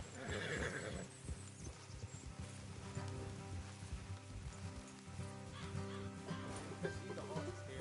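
Horses whinny and snort amid clopping hooves and a dense layered Red Dead Redemption 2 soundscape, the neighs rising clearly over steady background noise.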